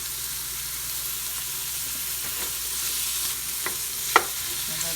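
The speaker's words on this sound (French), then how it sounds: "On va griller nos champignons." Mushrooms fry in a pan with a steady, close sizzle, one sharper clink of a utensil near the end and no voices.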